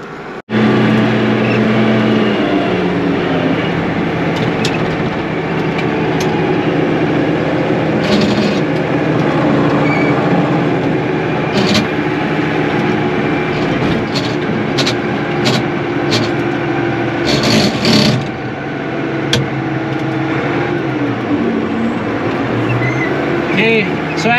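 Tractor engine droning steadily on the way to a hay field, a continuous loud low rumble with occasional rattles and clunks over the whole stretch.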